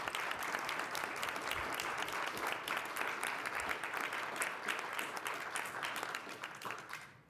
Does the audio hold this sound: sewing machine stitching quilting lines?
no